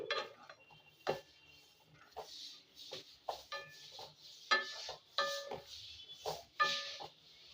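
Vegetables being mixed in a pan make intermittent metallic clinks and scrapes of a spatula, irregular and fairly quiet, with soft rustling between strokes.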